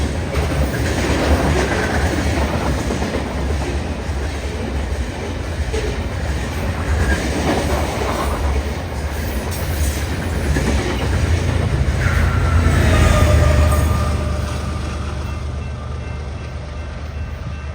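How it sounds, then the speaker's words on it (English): Canadian Pacific loaded grain train 390, a single-unit consist, passes through town at track speed: a loud, continuous roar of rolling wagons with rhythmic clickety-clack and faint wheel squeal, swelling slightly near the end. "this 1x1 Canadian Pacific consist brings loaded grain train 390 south through town at track speed"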